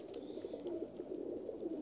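Pigeon cooing, a red-eyed golden pigeon among a home collection, soft low murmuring coos running steadily close by with no talk.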